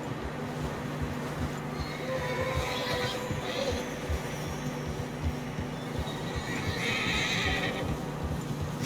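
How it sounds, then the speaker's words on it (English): In the video game Red Dead Redemption 2, a horse whinnies a few times over a steady rumble of hooves and movement through fresh snow, with a continuous low mechanical hum underneath. "Horses are getting tired."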